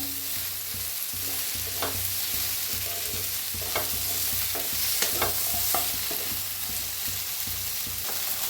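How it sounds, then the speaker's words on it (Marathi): Okra fries crisply in a pan under a continuous sizzle, with irregular spatula scrapes and clicks from stirring running through it. No one speaks. "आता छान अशी भेंडी भाजलेली आहे"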